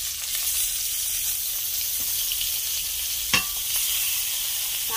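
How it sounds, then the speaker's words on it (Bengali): Fish frying in hot oil in a pan, a steady, close, bright sizzling hiss throughout, with one brief sharp tap or pop partway through. "তেল দিচ্ছি, মাছটা ভেজে নিচ্ছি"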